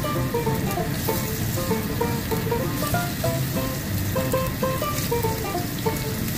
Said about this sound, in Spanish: Entonces ella pone un poco más de aceite de oliva y va a poner los camarones.